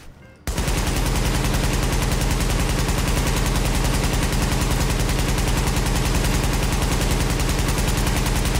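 Marksman rifle fire in the shooter game The Division, a loud, unbroken rapid stream of gunshots that begins after a brief quiet moment and keeps hammering evenly to the end.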